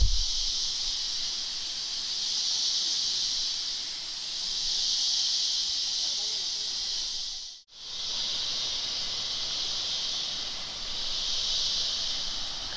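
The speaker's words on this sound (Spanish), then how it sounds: "Esas son las chicharras." Cicadas in the Lacandon jungle near Bonampak drone in a loud, steady high-pitched buzz that swells and fades in slow waves, cutting out sharply for a moment before resuming, with no talking.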